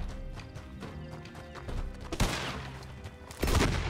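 Horse hooves clip-clop at a quick pace in the Western video game Red Dead Redemption, mixed with in-game gunfire and a sudden crash-like burst, loud and busy.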